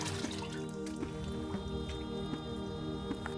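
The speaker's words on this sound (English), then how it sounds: "So swish it into the water and up and out." A human hair wig swished through a basin of water makes soft, repeated drips and sloshing splashes, steady and close, with no talking.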